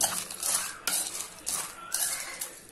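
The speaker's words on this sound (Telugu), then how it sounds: "మిక్స్ చేసుకుందాం దీన్ని బాగా. ఇలా మొత్తం మిక్స్ చేసుకోవాలి." A spoon clinks and scrapes against a bowl while fried Maggi noodle chaat is stirred together, in several quick repeated strokes, close and fairly loud.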